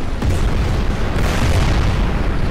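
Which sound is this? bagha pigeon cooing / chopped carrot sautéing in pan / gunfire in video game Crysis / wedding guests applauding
gunfire in video game Crysis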